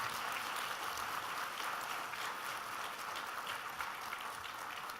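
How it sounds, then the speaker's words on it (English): Steady, dense applause from a large audience at a university sit-in anniversary celebration continues throughout at an even level, with no voices standing out. "Can we clap for her as well?"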